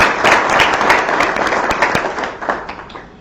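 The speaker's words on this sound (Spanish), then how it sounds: "pido un aplauso para ellos" Audience applause at a regional anti-corruption conference in Latin America, honoring Grupo Faro: a steady wash of many hands clapping, sustained and fairly loud, tapering slightly toward the end.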